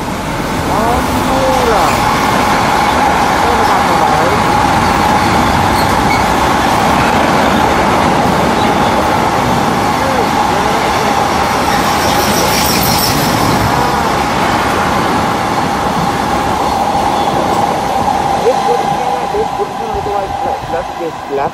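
A freight train rolls past near tracks in Rijswijk, its loud, continuous rumble and rattling wheel noise filling the whole stretch at steady volume, with no talk over it.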